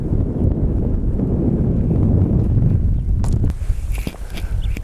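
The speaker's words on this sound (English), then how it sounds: "as soon as I start talking, the wind's picking up." Strong wind buffets an outdoor microphone at an abandoned Arizona mine, a loud low rumbling gust that eases near the end, leaving a few faint knocks and rustles.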